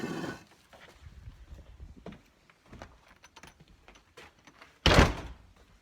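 A barn door closes with a loud, sharp thud near the end, after a stretch of faint rustling and scattered small knocks in a cattle barn.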